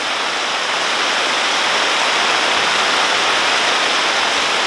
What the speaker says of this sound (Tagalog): At ang lakas ng ulan guys.